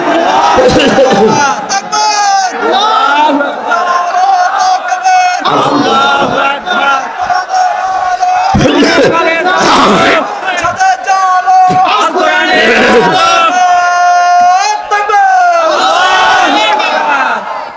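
A large crowd at a Bangladeshi religious rally answers a takbir call with loud, repeated massed shouts, rising and falling in several waves with brief gaps between chants.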